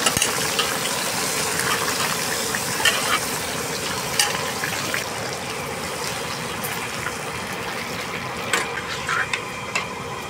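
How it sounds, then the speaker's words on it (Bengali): Radish and carrot pieces deep-frying in oil for a Bengali mixed vegetable dish, giving a steady, dense bubbling sizzle that runs the whole time with a few brief clatters on top, and no talking. "এবারে মূলো এবং গাজরগুলোকে ভেজে দেবো ভালো করে।"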